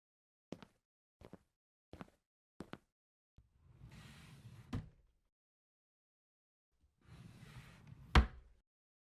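A drawer slides open and shut: a few soft knocks, then two scraping slides, each ending in a sharp thump, close and quiet with no voices.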